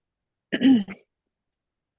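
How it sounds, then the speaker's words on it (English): A single short throat-clearing cough, close and abrupt, followed by a tiny click in otherwise near silence. "Cough, cough."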